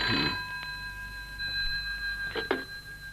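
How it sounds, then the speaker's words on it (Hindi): An old telephone bell rings faintly in a quiet room in a radio play, a short burst at the start and another pair of rings near the end. "शायद गाशा जी का टेलीफोन होगा"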